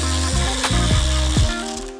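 A socket ratchet clicks rapidly in short bursts while loosening 10mm bolts under a G87 BMW M2, with three or four quick runs of sharp pawl clicks, close and loud.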